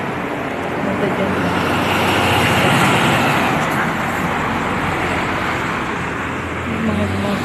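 Road traffic on a highway beside a nature park forms a steady, fairly loud wash of passing vehicle noise, and voices can be heard over it.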